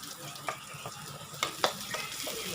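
Chopped onions hit hot oil in a pan for Filipino chicken afritada, giving a faint steady sizzle with a few sharp crackles and pops.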